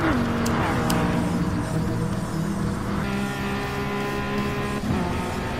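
Dodge Viper V10 race car in Gran Turismo Sport, its engine droning loud and steady at high revs while drafting behind another car, pitch shifting slightly with gear changes.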